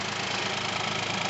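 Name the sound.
Hyundai Kona 1.0 T-GDi 3-cylinder engine idling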